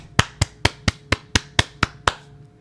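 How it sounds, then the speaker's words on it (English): Nine sharp, evenly spaced hand claps from a single person, close and dry, in a steady rhythm with quiet gaps between them. "Let's give him a round of applause."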